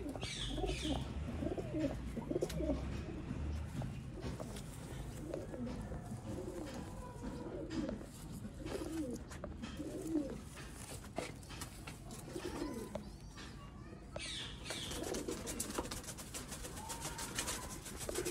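Sialkoti pigeons coo repeatedly in soft, rolling phrases at close range, several birds overlapping at a moderate level over steady background noise, with faint chirps mixed in.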